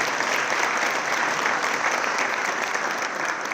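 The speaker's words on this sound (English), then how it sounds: "let's give them a round of applause" A crowd at a high school athletic signing event applauds student athletes with a continuous, even roar of clapping that holds steady from start to finish, with no talk over it.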